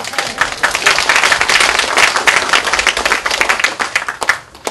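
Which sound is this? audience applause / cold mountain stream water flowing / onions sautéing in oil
audience applause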